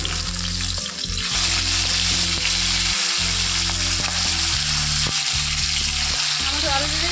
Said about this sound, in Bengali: মাছটা ভাজতে দিয়েছি